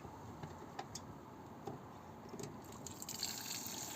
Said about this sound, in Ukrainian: Оце зараз я наберу водички.